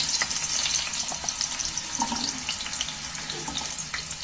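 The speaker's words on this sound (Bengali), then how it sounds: "আলুগুলো তেলের মধ্যে তুলে দিচ্ছি" Two medium-sized cut potatoes frying in hot oil, a steady close bright sizzle with faint clinks of stirring, no talk.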